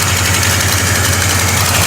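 A 1967 Pontiac GTO engine idles steadily and close by, with a constant low rumble and a clanking noise mixed in.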